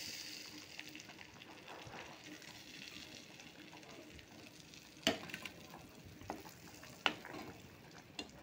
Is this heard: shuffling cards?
no